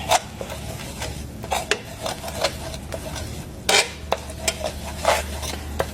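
A utensil stirs flour into melted butter in a pan, making repeated scraping and rubbing strokes with occasional sharper clinks against the pan, close and clear with no talking.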